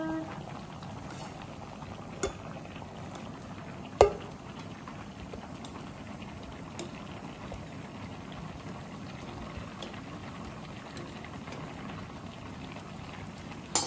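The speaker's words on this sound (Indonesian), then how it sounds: "Tujuannya direbus untuk ngilangin kulitnya." Tomatoes boiling in a pot of water to loosen their skins while cooking spaghetti bolognese, a steady bubbling wash with a few faint clinks.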